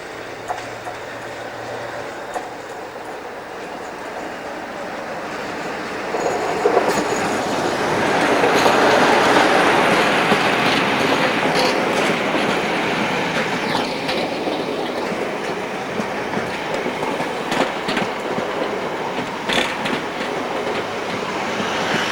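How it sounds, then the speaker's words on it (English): Class 47 diesel locomotive 47796 hauling the Serco track test train from Willesden toward Temple Mills in 1998: a loud engine drone and rumble approaches, builds to a peak, then passes with clickety-clack wheel beats and faint squeals. "47796 heads for Temple Mills with the Serco track test train from Willesden."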